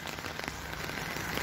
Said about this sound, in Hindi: अभी बारिश हो रही है और मैं जा रहा हूँ अब रूम पे।